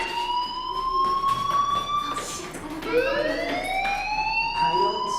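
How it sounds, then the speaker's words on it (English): Fire alarm ringing in the video game Life Is Strange, a steady electronic tone that holds a drawn-out pitch and then sweeps upward, continuous and fairly loud with no talk over it. "do you hear that fire alarm?"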